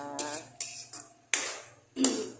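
Oysters are stirred in a metal cooking pot, four distinct close clanks of a utensil against the pot spaced about half a second apart, ringing briefly, with a faint low hum underneath.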